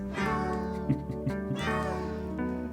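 Christmas song built from cat meows, sung-out pitched meows in a melodic run over a steady musical backing, loud and close.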